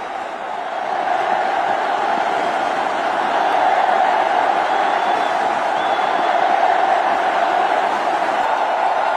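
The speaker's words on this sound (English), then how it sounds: "The crowd will be delighted." A cricket stadium crowd in Mumbai roars for Sachin Tendulkar in his last match, a loud, sustained wash of distant cheering that swells slightly partway through.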